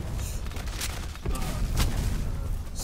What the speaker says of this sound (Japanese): すげえ爆発してるでしょ